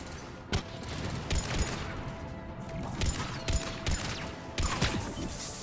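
Sporadic gunshots in Mass Effect combat against Cerberus forces, sharp cracks scattered through a steady background din, some bursts close together.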